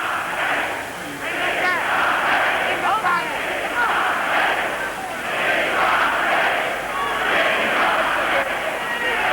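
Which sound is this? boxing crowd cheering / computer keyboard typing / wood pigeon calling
boxing crowd cheering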